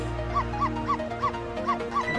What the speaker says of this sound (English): Doggo!